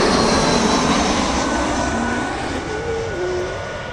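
A landing British Airways Airbus A320's jet engines roar loudly and steadily at Rome Fiumicino, the rumble easing slightly toward the end, with a faint whine passing over it.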